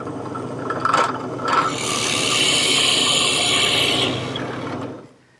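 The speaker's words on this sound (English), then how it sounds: "series of holes, 1 inch in diameter, using a Forstner bit, which is set to go to a depth of 1 inch" A 1-inch Forstner bit bores into redwood to a set depth of one inch, a steady grinding rasp of cutting wood that holds for several seconds, close and loud, then tapers off as the bit withdraws; no voices.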